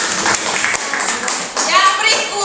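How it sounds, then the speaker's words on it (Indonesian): Classroom applause for a student during a teaching simulation lesson on eye and skin function: a dense, broadband patter of clapping runs steadily through the short stretch, fairly close, with voices mixed in. "tepuk tangan untuk Yen."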